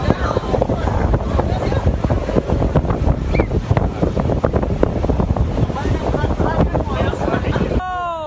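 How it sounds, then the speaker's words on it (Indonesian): Strong wind roaring over the open sea at Pararenan beach as a waterspout whirlwind forms offshore, a loud continuous gusty rush with buffeting on the microphone throughout. "video amatir warga yang merekam detik-detik munculnya pusaran angin puting beliung dari tengah laut pantai Pararenan"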